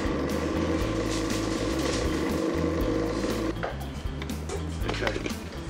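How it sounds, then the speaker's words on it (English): A blender mixing nori seaweed flakes into pasta flour, a loud steady motor whir that drops and changes tone partway through as the speed shifts, with light clattering after. "So I'm just going to blend that with my pasta flour."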